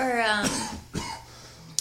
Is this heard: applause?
no